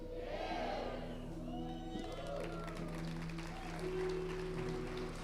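Scattered applause and crowd noise from a church congregation, with whoops rising around a sustained voice and organ-like tones; steady and moderately distant.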